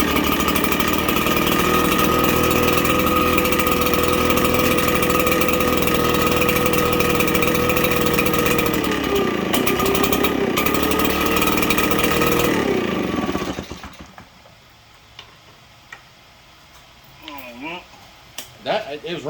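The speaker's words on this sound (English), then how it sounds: "Let's open the throttle if it'll allow me to." A RedMax leaf blower's two-stroke engine, freshly carb-rebuilt, runs loud and steady at open throttle for about thirteen seconds, then cuts out abruptly, leaving quiet with faint handling sounds.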